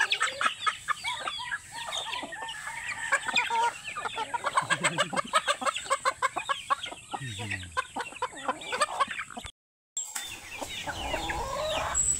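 A flock of Rhode Island chickens clucks steadily up close, a dense run of overlapping clucks and calls with a brief pause near the end before the clucking resumes.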